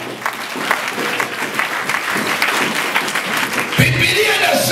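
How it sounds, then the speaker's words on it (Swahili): A church congregation claps hands in sustained, dense applause during a sermon, with a preacher's voice carrying over the clapping. "Piga makofi kwa Mungu aliye hai."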